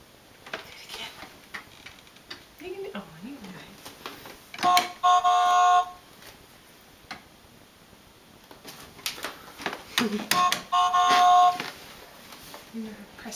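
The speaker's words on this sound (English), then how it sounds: "Let's hear the horn." Car horn on a child's new car beeps in two short bursts several seconds apart, with quiet talk and small clicks in between.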